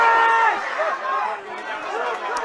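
Excited crowd of many voices rising and falling at a Leinster camogie club championship match between St Vincent's and Oulart The Ballagh, with a close voice speaking over the shouting.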